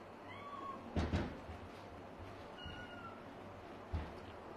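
A cat meows indoors at night, with a few short meows spaced apart at moderate distance over a quiet, steady background hum.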